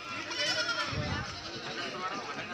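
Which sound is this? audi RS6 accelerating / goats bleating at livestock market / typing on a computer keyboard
goats bleating at livestock market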